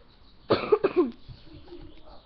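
A person nearby coughs two or three times in a quick burst, then quiet background follows.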